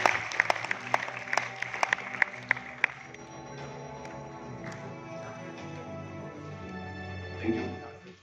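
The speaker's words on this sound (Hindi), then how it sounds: "एक बार इनके लिए जोरदार तालियां हो जाए" Applause from a seminar audience honouring a network-marketing sales master, with sharp claps at first that thin out after a few seconds into a low hum of room noise and murmuring.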